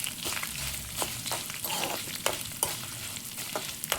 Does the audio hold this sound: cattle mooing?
no